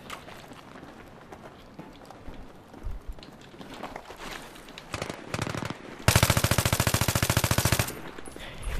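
Rapid automatic rifle fire from the video game Battlefield 3, a dense burst of evenly spaced shots that grows loud and close toward the end after quieter scattered battle noise.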